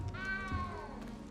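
A cat meows once in the Hogwarts Legacy video game, a clear, fairly close rising and falling tone lasting about a second over a low background hum.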